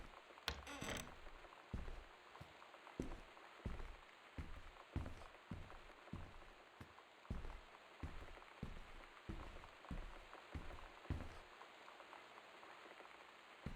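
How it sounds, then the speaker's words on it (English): Rain against house windows in the game Gone Home, a faint steady patter with soft regular thumps in the background, quiet and without voices. "that's the rain against the windows"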